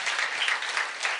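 Church congregation applauding during a prayer-themed sermon, a dense, steady wash of many hands clapping together at close range, filling the space evenly without pause.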